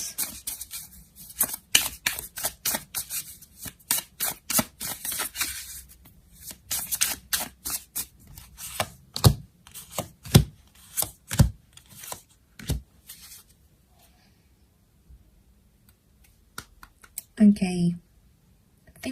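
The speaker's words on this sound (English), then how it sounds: "Let's pile in some more cards." Tarot cards handled and laid out on a surface: quick crisp flicks and slaps in bursts, fading to sparse snaps, then a brief spoken voice at the end.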